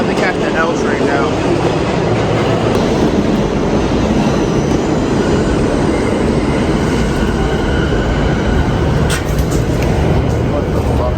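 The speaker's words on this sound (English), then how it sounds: "I still have to catch the L train now." A New York City L subway train roars loudly through a hot station, its steady, dense rumble and rattling filling everything, with a few sharp metallic screeches near the end.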